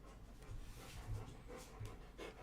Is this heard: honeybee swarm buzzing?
no